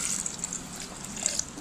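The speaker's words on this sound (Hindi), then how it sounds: "थोड़ा सा पानी डाल देंगे।" Water is poured into whole black pepper, green cardamom, fennel and almonds for a sardai mix, a faint, short trickling splash heard alone.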